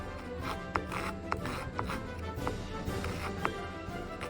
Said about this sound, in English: Hold the parts as square to the sandpaper as you can and drag across to wear down the nose.